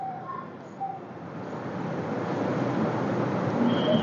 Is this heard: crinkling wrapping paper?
no